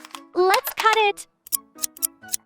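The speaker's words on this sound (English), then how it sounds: "Let's cut it!" Scissors cut paper for a DIY paper blind bag with Roblox Sanrio outfits (Cinnamoroll, Hello Kitty), heard as a few crisp, close snips following a brief vocal sound.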